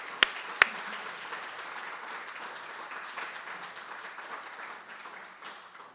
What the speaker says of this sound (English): Let's give all these a round of applause.